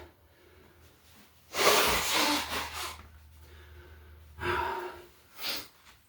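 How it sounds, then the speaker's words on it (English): Someone blows their nose nearby in two forceful, noisy bursts, followed by a shorter sniff. "Yes, I have to blow my nose."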